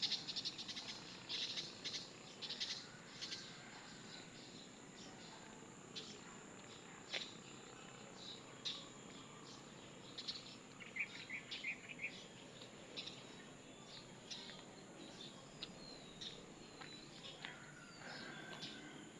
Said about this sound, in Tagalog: Pakinggan niyo mabuti yung mga huni ng ibon.